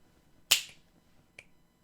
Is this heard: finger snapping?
yes